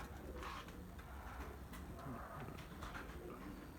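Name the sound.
pigeon chicks cooing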